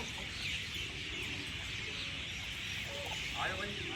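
Chickens cluck inside a coop among other farm birds, a steady noisy backdrop with scattered short calls rising near the end.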